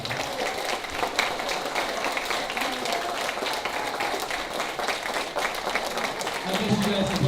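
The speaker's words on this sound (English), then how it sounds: "So how about a round of applause for all your teachers and staff." Sustained applause fills a school achievement-day assembly as the audience claps for teachers and staff, a dense, even patter of many hands with crowd voices mixed in, swelling slightly toward the end.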